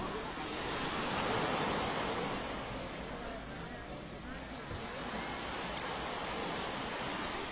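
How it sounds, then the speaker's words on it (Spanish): Sea surf at Torre del Mar, Málaga, a steady broadband wash of waves rising and easing gently, soft and distant in the background with no talk. "con el mar de fondo, escuchándose ese mar de fondo"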